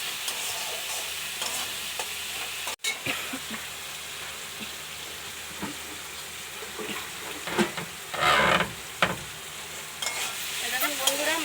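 Spice paste sizzles and fries in oil for a bhola fish curry, a continuous close crackle with stirring scrapes and louder bursts of spatter, no voices.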